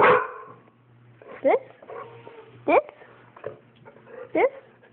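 A dog barks three times at spaced intervals, close by, with some whimpering between the barks.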